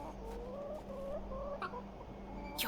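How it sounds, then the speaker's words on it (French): Chicken clucking in the video game The Excavation of Hob's Barrow, a few short bright clucks over a steady low hum, close and moderately loud with no talk. "Bon bah je vais prendre une poule."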